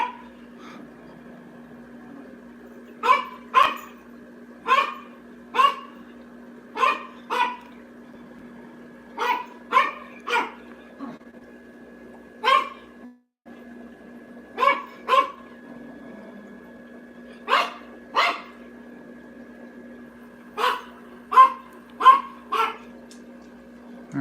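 Several dogs bark in short clustered bursts, sharp and fairly close, each flurry followed by a pause. A steady electrical hum runs underneath the whole time.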